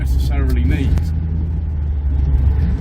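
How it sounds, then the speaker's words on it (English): A modified 1972 MGB GT with a 4.6 V8 burbles along at 30 mph in fourth overdrive, a low steady engine rumble from inside the cabin, with someone talking over it at the start. "So we're just burbling on 30 miles an hour in fourth overdrive."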